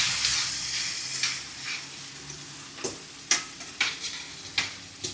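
Green beans stirred into a sizzling spice masala with curry leaves and chillies in a pan, a steady frying hiss broken by several sharp scraping stirs of a spoon toward the end, close and with no voices.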